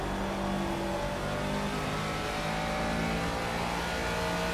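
A race car engine in the video game Project Cars drones steadily and fairly loudly, holding a continuous rev tone with slight pitch shifts throughout, with no voices over it.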